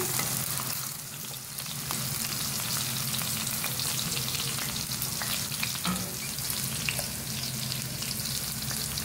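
Okra pieces frying in hot oil, cooked to a light golden brown, give off a steady, dense sizzle and crackle that runs unbroken and fairly loud for the whole stretch, with faint stirring beneath and no voices.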